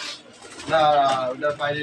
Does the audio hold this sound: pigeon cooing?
yes